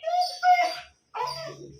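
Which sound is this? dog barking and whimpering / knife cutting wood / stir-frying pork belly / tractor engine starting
dog barking and whimpering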